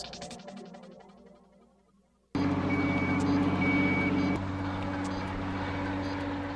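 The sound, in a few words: specialised heavy truck reversing with beeps at bridge construction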